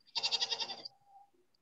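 A single goat gives one rapid, pulsing bleat of about eight quavering beats, close and clear, followed by silence.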